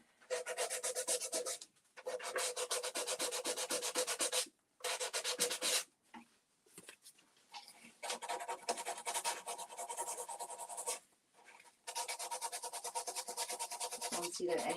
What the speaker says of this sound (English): So those edges from the gaps, I'm just sanding down a tiny little bit